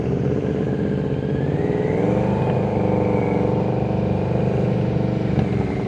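A motorcycle rolls along at slow speed during an advanced slow-riding practice session in Chicago, the engine a steady low drone with faint pitch shifts and no voices.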